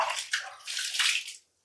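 Water poured by hand onto laundry being washed with detergent soap, a couple of splashing gushes over about a second and a half, close, then a brief silence.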